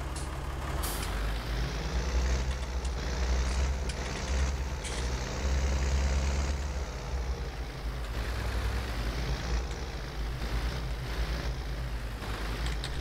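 Tractor engine running in the farming game Farming Simulator 19, a steady low diesel rumble with occasional hissing releases and clicks, no talking.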